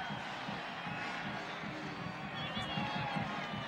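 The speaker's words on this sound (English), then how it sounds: "Listen to the cheers." A Notre Dame football stadium crowd in 1997, facing Boston College, cheers as backup quarterback Jarius Jackson enters the game: a steady, broad, distant roar of many voices with no clear breaks.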